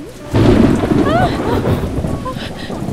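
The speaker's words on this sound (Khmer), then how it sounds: "ពួកយើងទៅផ្ទះទៅទីនេះក៏រន្ទះខ្លាំងតែទៀតនឹងមានភ្លៀងខ្លាំងជាងនេះមែនហើយ" A heavy rainstorm with a loud thunder rumble rolling in and sustained through the clip, rain hissing steadily underneath while a few voices sound briefly.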